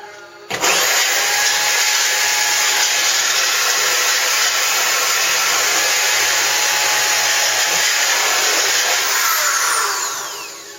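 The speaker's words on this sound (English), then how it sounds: "we got the drill, the hole drilled" A power drill drills a hole in a 1956 Chevy truck for an antenna, running continuously with a loud, high-pitched whirring whine for about ten seconds, close up, then winding down at the end.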